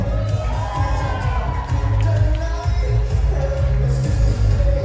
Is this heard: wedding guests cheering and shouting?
yes